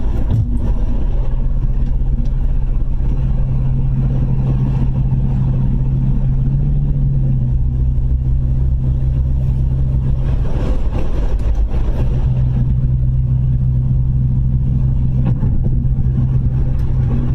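A car engine drones continuously while driving along Houston roads, a loud, steady low hum with slight shifts in pitch and no talking.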